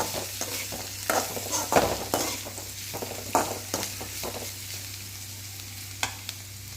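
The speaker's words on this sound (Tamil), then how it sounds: "ஏற்கனவே வதக்கி வச்ச பாவக்காயை இது கூடவே சேர்த்து ஒரு 1 நிமிஷத்துக்கு வதக்கிக்கலாம்" Bitter gourd for a Chettinad tamarind curry is sautéed in a pan, giving a soft sizzle under repeated scraping and stirring strokes of a spatula, loud and close, with no talking.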